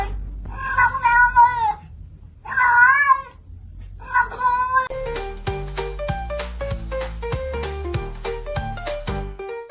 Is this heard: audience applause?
no